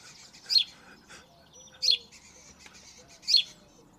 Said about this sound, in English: it's the cheep of a sparrow.